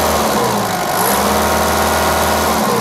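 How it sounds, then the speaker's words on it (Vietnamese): A used Japanese forklift engine idles steadily up close, then the throttle is blipped for a smooth rev, loud and continuous with no voices. "Tiếng động cơ tròn, êm và rồ ga nó thoát máy."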